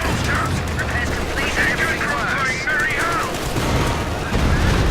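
Gunfire from units in the video game Company of Heroes 2, rapid machine-gun bursts and shots crackling in a busy battle mix, with someone talking over it.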